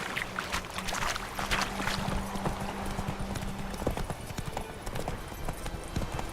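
Hooves of Geralt's horse Roach clip-clop steadily in The Witcher 3, a repeated rhythmic trot under low ambient game sound and a faint tonal hum.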